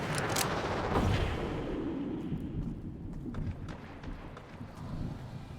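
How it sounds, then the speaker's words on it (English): Gunfire in a Fortnite solo match: a burst of sharp shots at the start, then scattered fainter distant reports over a steady low battle rumble, with no talk. "others were alerted to the sounds of gunfire"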